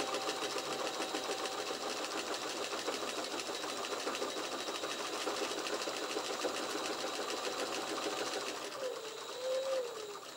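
A sewing machine runs steadily, stitching a long leather rein in a continuous, even whir that carries on nearly unbroken, with a brief change in pitch near the end.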